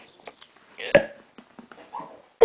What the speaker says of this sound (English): You like my hiccups?